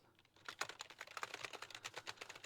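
Rapid, uneven typing on a budget Lidl gaming keyboard, close and fairly quiet, with a steady stream of clicky keystrokes and no talk.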